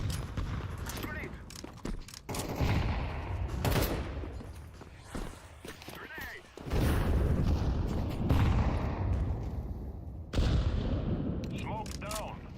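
Grenade blasts and gunfire in Counter-Strike 2 sound as loud bursts separated by short lulls, with heavy booms near the middle and end amid rapid shots and a talking voice.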